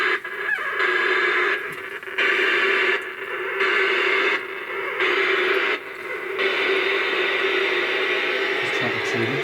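A ghost-hunting spirit box radio sweeping through stations during an investigation at the Queen Street Masonic Temple, giving steady hissing static broken by rhythmic bursts of choppy radio noise, with no talk over it.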